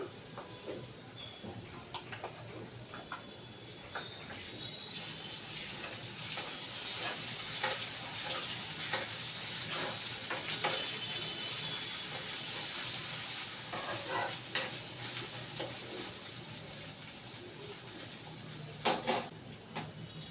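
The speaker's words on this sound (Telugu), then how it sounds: "అల్లం వెల్లుల్లి పచ్చిమిర్చి ఉల్లిపాయ బాగా వేగింది" Onions, green chillies and ginger-garlic paste fry in a pan for a Telugu-style spicy chicken curry, giving a steady soft sizzle with faint crackles and an occasional scrape of stirring throughout.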